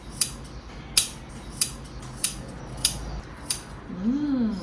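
Scissors snip through a thrifted shirt in six crisp, evenly spaced cuts close by, followed by a low murmuring voice at the end.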